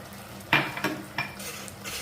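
Sago stirred into simmering turtle bean payasam in a pot: a few sharp clinks of a metal spoon against the vessel over quiet background bubbling, close and moderately soft.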